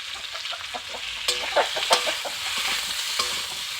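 Vegetables with salt and turmeric sizzle in a hot pan for a dalia dish while a spatula scrapes and stirs in quick, repeated strokes, close by.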